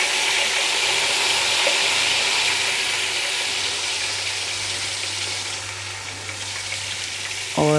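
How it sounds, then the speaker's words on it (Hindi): A tablespoon of ginger garlic paste hitting hot cooking oil for an aloo methi dish gives off a loud, steady frying sizzle with a faint low hum beneath it, then a short clatter near the end. "1 से 2 सेकंड के लिए इसको फ्राई कर लेते हैं।"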